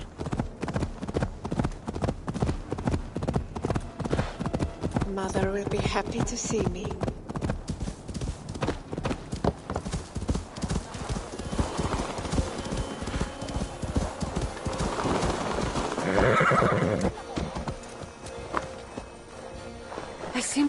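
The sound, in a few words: horse hooves and whinny in the video game Discovery Tour: Viking Age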